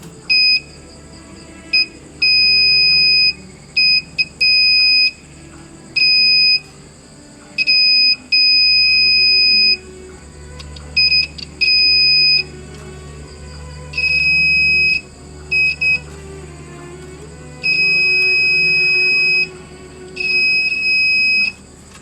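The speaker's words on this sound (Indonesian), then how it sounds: "beberapa sekring terdengar nada bip sangat lemah, menandakan koneksi sekring buruk atau memiliki resistansi tinggi" A multimeter gives continuity beeps while the fuses of a Sansui AU-2900 amplifier are tested. Close, steady electronic tones sound in an irregular series, some short and others held for a second or more, with a low hum underneath.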